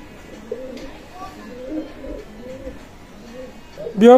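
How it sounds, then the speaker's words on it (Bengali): A pair of imported Pakistani Teddy pigeons coo nearby in soft, rolling, repeated low calls, followed at the end by a brief louder sound. "এক জোড়া রানিং পেয়ার কবুতর টেডি আছে দেখেন"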